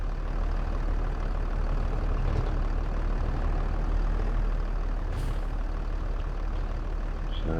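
A tractor engine in Farming Simulator 22 drones steadily while pulling a load, a constant low heavy rumble with no pauses, loud and alone.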